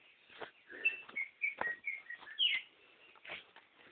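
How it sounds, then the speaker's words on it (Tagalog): Several birds chirp and tweet in short, scattered calls, moderately close, over a quiet background. "Mga naririnig nyo yung mga ibon."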